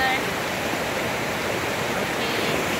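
Mountain stream water in the Rocky Mountain area near Bishkek, Kyrgyzstan, rushing in a constant, dense broadband wash that stays even from start to end, close and loud with no break.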